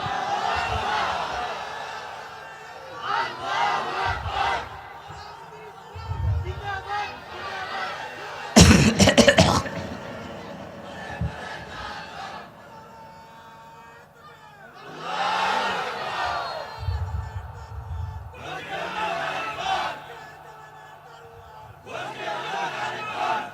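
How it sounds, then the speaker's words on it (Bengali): A crowd at a Bangla Islamic sermon gathering shouts the takbir together in several loud collective bursts, rising and falling between a preacher's spoken prompts. "সবাই একসাথে আল্লাহু আকবার বল, বলো আওয়াজ করে"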